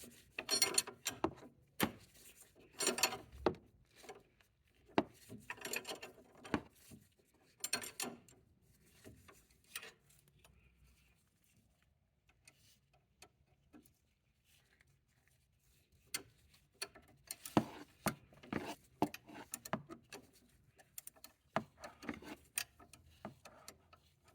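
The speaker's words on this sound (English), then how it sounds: "now being able to use the wrench to hold it back, or not the wrench to hold it back, but the wrench to remove that nut" A ratcheting wrench loosening the sway bar link nut on a 2012-or-later Tesla Model S, making bursts of quick close clicking separated by a quiet pause in the middle, with no talking.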